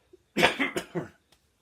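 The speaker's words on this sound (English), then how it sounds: "So, got a cough." A single person coughs several times in a quick burst of harsh, close bursts, then falls quiet.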